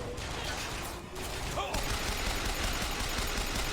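Rapid gunfire from a gun fired zoomed in while aiming in BioShock Infinite, a dense run of close, loud shots with a short pause partway through before the firing resumes.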